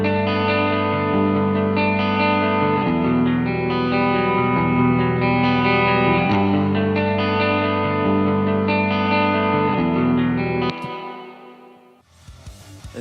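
Music track mixed with stereo reverb and delay, a sustained distorted, chorus-laden instrumental chord pattern changing every few seconds, fading out with a brief noisy tail.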